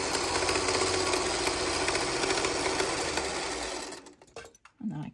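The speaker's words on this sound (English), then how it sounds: "I'll just keep trimming and running them through like this" A sewing machine hums close and steady while chain-piecing corner triangles onto quilt blocks, then slows and stops, leaving a few soft handling noises.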